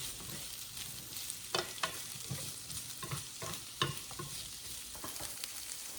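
Steady sizzling of vegetables, including cabbage, stir-frying in oil, with scraping and tossing clicks from stirring scattered throughout, fairly close.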